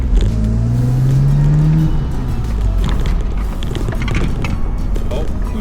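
A 20-year-old BMW car driving and taking corners, its engine tone rising at first then settling into a rumbling, rattly road noise close by, with a person talking over it.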